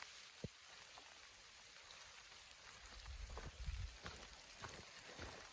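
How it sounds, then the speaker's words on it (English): Rain falls on a wooded hiking trail in the Ozark Highlands in April, a faint, steady patter with scattered louder drops nearby. "And still raining."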